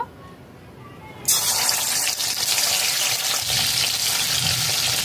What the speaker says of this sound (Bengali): তেল গরম হয়ে গেছে। ম্যারিনেট করা চিকেন ভেজে নেব।